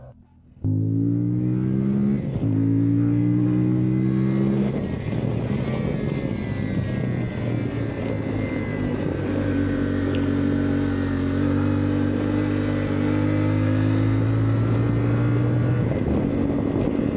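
A loud CFMOTO Ibex 450 adventure motorcycle engine starts up and climbs in pitch, then holds a steady, throbbing drone while riding, close and continuous.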